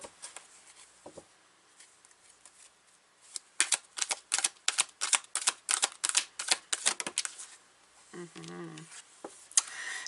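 Tarot cards are pulled and shuffled close by, making quick riffling flicks and soft slaps in irregular bursts. A voice can be heard faintly in between.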